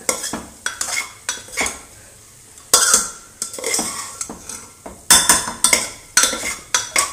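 A utensil scrapes and clatters against a pan in repeated, uneven strokes while mixing a fenugreek-leaf and radish dish, with a faint sizzle underneath and no voices.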